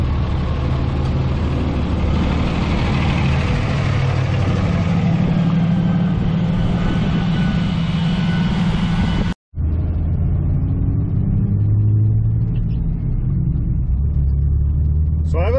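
Steady low engine rumble from a 5.9 Cummins diesel truck with an NV5600 manual transmission and dual-disc clutch while driving, broken by a brief dropout near the middle before the drone resumes.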